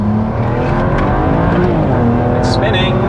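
A tuned BMW N54 17T build spins its tires under hard acceleration onto a highway, a loud, steady engine roar with a squeal of rubber rising near the end.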